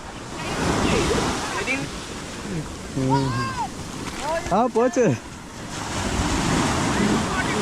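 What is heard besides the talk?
sea waves washing over a sand castle at Cherai beach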